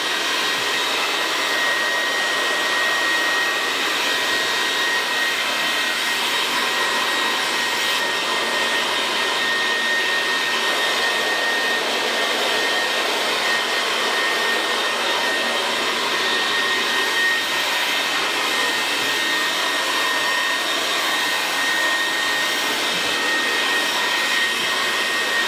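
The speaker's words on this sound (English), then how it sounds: "rough drying someone's hair." A hair dryer runs continuously at close range for rough drying hair in a barbershop, a steady loud whooshing roar with no talk over it.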